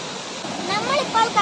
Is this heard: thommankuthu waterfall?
yes